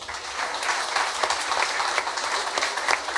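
Audience at an award ceremony applauding steadily, a dense wash of many hands clapping at even loudness throughout, with no voices standing out.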